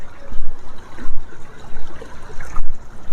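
Swiftly flowing river water near an upstream channel with culverts, a close, steady rushing and trickling wash with small gurgling bursts.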